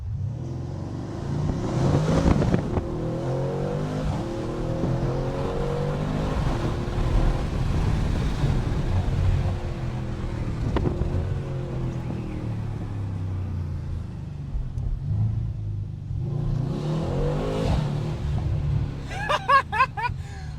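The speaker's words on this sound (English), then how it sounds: "I just love the noise the Mercedes-Benz C63 has" A powerful Mercedes-Benz C63 S coupé engine revs and roars repeatedly, loud and sustained, with wind noise and a brief higher whine near the end.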